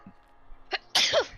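A single sharp human sneeze bursts out close and loud after a brief intake of breath, with faint background noise before it.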